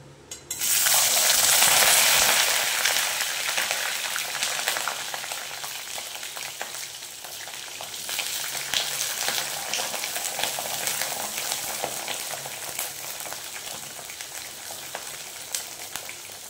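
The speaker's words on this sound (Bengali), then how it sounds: "এইবার এই সিমগুলো দিয়ে দেবো ভাজার জন্য।" Flat beans dropped into hot oil in a wok, bursting into a loud crackling sizzle that peaks right away then settles into a steady, dense frying hiss for the rest of the time, with no talking.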